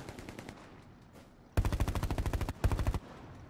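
Rapid bursts of M1 Garand rifle fire in the World War II shooter Hell Let Loose: a quiet stretch gives way to loud, close, rhythmic volleys of sharp shots, a brief pause, then a second short burst.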